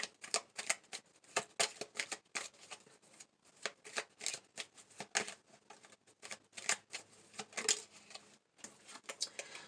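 Tarot message cards shuffled by hand, a close, rapid run of papery riffles and flicks with brief pauses between bursts.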